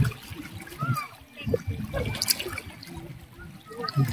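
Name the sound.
river current flowing, Agos River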